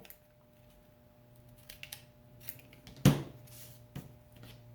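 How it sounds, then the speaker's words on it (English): Scissors trimming paper for a witch-and-pumpkin craft: a faint snip or two early on, then one sharp, close cut that stands out clearly, followed by soft rustling of paper. "I'm going to trim it a little bit."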